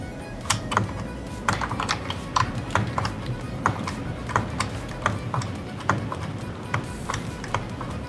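Computer keyboard keys clicking in a steady run of sharp, fairly loud taps over a constant low background hum while gaming, with the spacebar held down.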